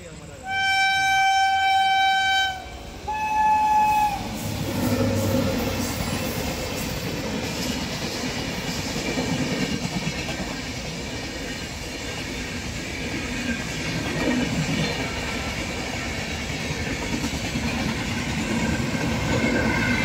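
Train passing at a railway crossing near Jhansi–Nagpur road, a warning tone beeping at the start, then continuous clattering wheels and rumble of cars rolling by steadily at moderate distance.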